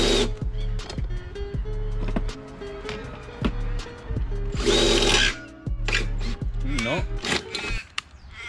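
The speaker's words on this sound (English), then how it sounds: "Watch me blunt my fucking drill bits in like 2 seconds." Power drill boring holes with fast-wearing bits, repeated whirring bursts that start and stop in short runs, close and loud, with someone talking between and over the drilling.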